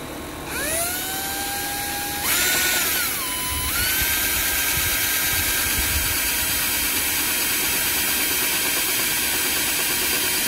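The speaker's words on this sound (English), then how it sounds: "you want to drill your hole." A power drill bores a hole in a food-grade plastic lid, its whine rising as the motor spins up and then holding a steady high pitch, close and alone.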